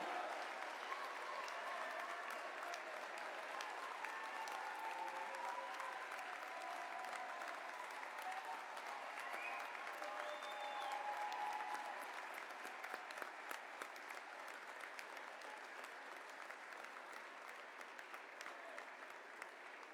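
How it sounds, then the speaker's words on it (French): A graduation ceremony audience breaks into sustained applause for families and friends, a broad, even roar of many hands clapping that stays strong for twenty seconds and tapers only slightly toward the end. "Je vous demande de les applaudir bien fort pour les remercier des encouragements du soutien qu'ils vous ont apportés"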